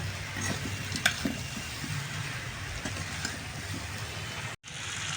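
Raw potatoes and whole spices frying together in a pan, a low, quiet sizzle with occasional scraping stirs, briefly cut out near the end.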